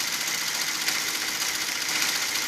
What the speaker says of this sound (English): I can see the more I sew with it right now, it sews faster